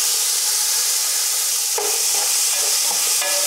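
Steady, loud sizzling of onions, tomatoes and curry leaves frying in a pan, with a few scraping stirs partway through and no voices.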